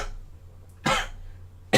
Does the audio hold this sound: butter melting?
no